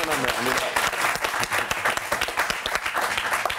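Applause for the town of Sinnamary during a televised interview, a brief busy patter of clapping with voices mixed in, steady throughout.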